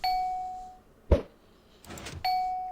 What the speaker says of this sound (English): every time I take the shot, I get a chime as the score goes up